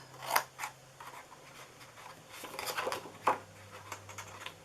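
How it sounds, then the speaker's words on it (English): Big scissors cut through cardboard box sides in a few sharp, close snips and crunches, separated by quieter rustling and handling noise. "And then I'm going to cut these so it folds easier into the box."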